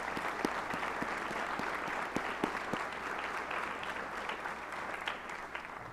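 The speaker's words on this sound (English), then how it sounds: "Could our representatives from Doñana Community College please stand for our applause one more time?" Applause breaks out among the crowd at a high school graduation ceremony, steady and moderately loud, with many hands clapping over several seconds and a few sharper claps standing out near the front.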